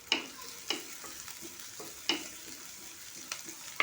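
Curry leaves hitting hot oil in a kadai with finely chopped onion, producing a soft frying sizzle broken by several sharp crackling spurts and stirring scrapes, fairly quiet and close.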